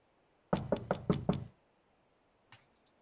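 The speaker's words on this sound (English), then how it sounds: "I knock on his door." Five quick, firm knocks on a door sound close and distinct in an even rhythm, followed by silence and a faint brief tap.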